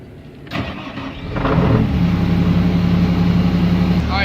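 Skid steer loader engine cranking and catching at about half a second, then settling into a steady, loud idle close by, with no talking.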